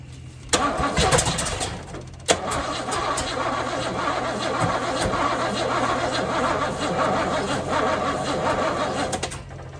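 A 1978 Chevy Camaro drag car engine cranks and fires, catching into a loud, steady rough idle that runs on close by with no talk over it.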